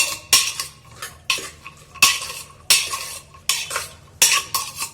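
A spoon mixes food in a metal pot with repeated scraping and clinking strokes in an uneven rhythm, loud and close, with no voices.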